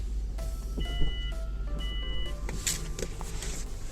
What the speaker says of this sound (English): let me try the tailgate from here